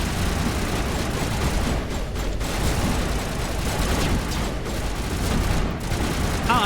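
Sustained rapid turret gunfire on the insanity difficulty in the video game Mass Effect 1, a dense, continuous loud barrage with no pauses, filling the whole stretch.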